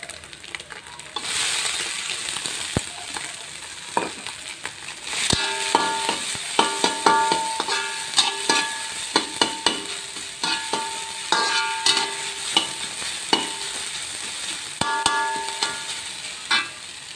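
Sardines tipped into a hot pan for a sardine mayonnaise sandwich filling crackle in a steady close sizzle while a spatula scrapes and clinks against the pan in repeated strokes, with no talking.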